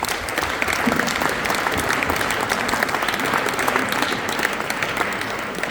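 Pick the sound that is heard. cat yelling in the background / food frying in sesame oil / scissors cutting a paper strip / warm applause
warm applause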